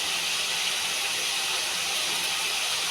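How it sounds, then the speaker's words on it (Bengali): Flat beans fry in a pan with a dense, steady hiss of hot oil that stays unbroken and close throughout, with no voices. "তো ভালো মতো ভেজে নিতে হয় শিম।"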